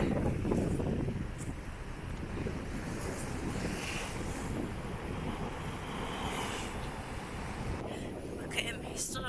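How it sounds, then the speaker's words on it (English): Crashing waves and sea spray with strong wind rushing over the microphone, loud and continuous, a voice briefly audible, on Ocean Cay island. "Some big sea spray over here"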